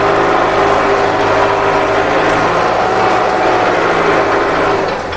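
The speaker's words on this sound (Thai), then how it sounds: "ตัวนี้เป็นรถ 60 แรงม้านะครับ เครื่องยนต์ 4 สูบนะครับ" Kubota M6040SU tractor with a 60 hp four-cylinder diesel engine and four-wheel drive, running steadily up close: a continuous, even engine drone with a low rumble beneath and mechanical noise layered on top.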